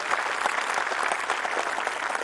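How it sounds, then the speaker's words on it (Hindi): A large audience at a Hindi poetry gathering gives a poem sustained, dense applause, a steady wash of clapping with no talk. "एक बार जोरदार तालियां बजाकर आप कविता को आशीर्वाद दें"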